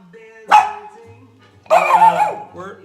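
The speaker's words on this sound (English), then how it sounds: "We got the dogs" Dogs bark in two loud bursts, one brief and one longer, close by, with a low hum in the background of a home fitted out for Christmas.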